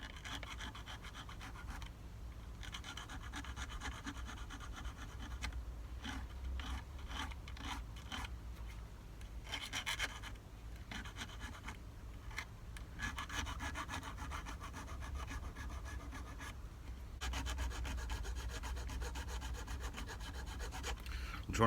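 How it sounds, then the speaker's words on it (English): A silver buckle ring being worked with a small hand file, a steady run of close, faint scratchy rasping strokes with brief pauses between passes, heard alone. "I want to use the little file now,"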